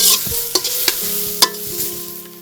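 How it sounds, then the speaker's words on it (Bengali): Dry pieces of meat jerky are stirred in a pan without oil: sharp scraping knocks of the spatula come several times over a faint, dry sizzle, with no talking. "তারপরে তেল ছাড়া হালকা করে ভেজে নিতে হবে"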